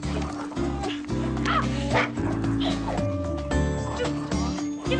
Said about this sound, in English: Stupid dog. Give me that!